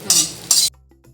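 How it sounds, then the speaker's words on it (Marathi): Dry fruits stirred in a metal kadhai on the stove, two bright scraping clinks of a spoon against the pan in quick succession, followed by a faint low hum. "याच्यामध्ये कढईमध्ये वरखाली करत राहायचे"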